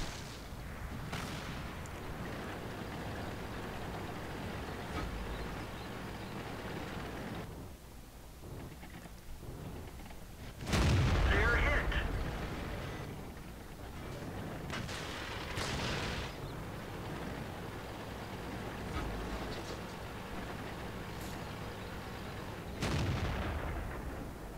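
Tank cannon shots in the World of Tanks video game, including fire against an E-50, with several heavy booming blasts spread across the stretch over a rumbling battle background.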